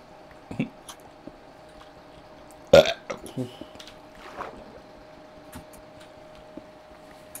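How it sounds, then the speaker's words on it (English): A person lets out one loud, abrupt burp, followed by a few softer wet mouth sounds and faint scattered clicks over a quiet background with some voice activity. "Man, my burps be burping."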